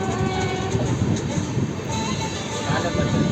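Grand Trunk Express train pulling into a railway station in Madhya Pradesh, a steady loud rumble of rolling wagons with clattering wheels and a faint horn-like tone, while a voice talks over it.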